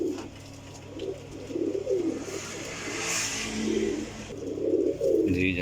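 A golden pigeon coos in a series of low, rolling calls, fairly close, with faint traffic or engine noise in the background.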